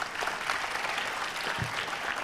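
An audience applauds at a youth health consultation at AIIMS Rishikesh, giving steady, dense clapping that fills the room for the whole stretch without a break, with no voices rising above it.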